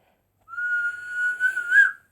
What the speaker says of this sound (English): put two fingers in his mouth and he let out that very large whistle of his